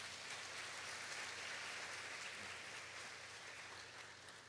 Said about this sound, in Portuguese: Dê um aplauso à palavra do Senhor.